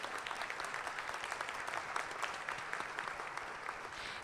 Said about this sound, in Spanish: les pido un aplauso para nuestros ponentes del día de hoy